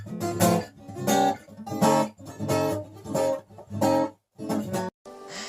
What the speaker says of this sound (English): if you aren't able to get it in tune, your guitar will sound like this.